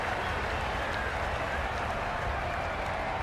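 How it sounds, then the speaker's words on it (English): Raucous cheering crowd at a Pakistan versus India match in the video game Cricket 22, a dense, steady roar of noise and clapping that fills the whole stretch without pause. "The crowd are really getting quite raucous."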